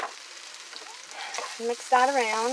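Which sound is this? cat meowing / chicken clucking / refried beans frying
refried beans frying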